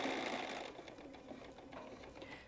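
A sewing machine back stitches a half-inch seam on a Cuddle pillow, a quiet, close mechanical hum with a brief run of stitching that slows and fades slightly.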